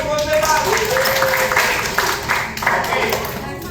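Applause for a gold medal winner at an award ceremony in a Cubao mall, steady clapping from a crowd with voices talking over it throughout.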